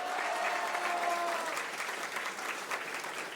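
An audience at a National Science Bowl competition applauds a school team with steady, continuous clapping that fills the room and holds evenly throughout, with no talk over it.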